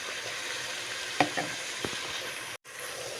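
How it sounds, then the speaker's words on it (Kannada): Green peas fry in a home kitchen pan with a faint, steady sizzle, broken by a couple of soft clinks and a brief moment of silence near the end. "ಸೊ ಇದು ಫ್ರೈ ಆಗಲಿ ರೀ"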